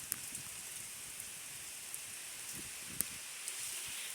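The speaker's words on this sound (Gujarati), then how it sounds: "વરસાદ ઘડીકમાં આવી ગયો" Steady rain falls in a sudden shower, a soft continuous patter with a few sharper drops striking nearby surfaces, fairly quiet and with no one speaking.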